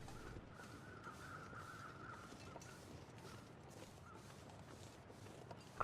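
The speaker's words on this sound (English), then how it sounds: "Crows above something there." Crows in the video game The Long Dark caw repeatedly in a steady series of harsh calls, moderately distant over a low ambient wind bed.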